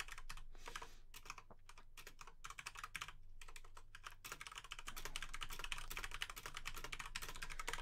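Rapid clacking of a computer keyboard fills the whole stretch, sparse at first and then dense and continuous, close and fairly loud with no voices over it.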